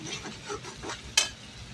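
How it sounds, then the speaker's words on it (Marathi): Masala for shahi paneer is sautéed in a pan, with soft frying and a few spoon strokes, then one sharp scrape or clatter near the end of the short stretch. "फक्त आहे तो आपण जो मसाला आहे तो परतून घ्यायचा आहे"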